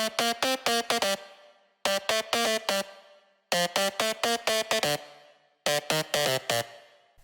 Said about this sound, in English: it's a bandpass distorted saw